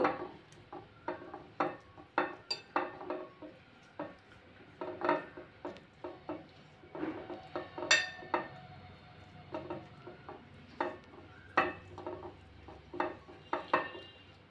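Rohu fish pieces being mixed by hand with chilli powder, salt and spices in a bowl, giving irregular wet squelches and light clinks against the dish, close and fairly quiet with no voice.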